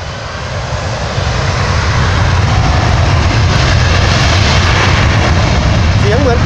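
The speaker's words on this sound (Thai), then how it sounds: "เสียงเหมือนเครื่องบินกำลังเทคออฟแล้วนะครับ" A jet airliner roars on takeoff at Phuket airport, heard from the beach nearby as a loud, steady, building engine rumble and hiss that swells and holds throughout.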